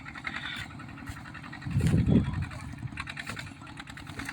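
A small farm tractor clears overgrown woodland behind a house, its engine chugging steadily at low pitch and swelling louder for a moment midway, heard at moderate distance.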